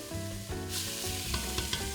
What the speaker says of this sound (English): that sizzle, not too much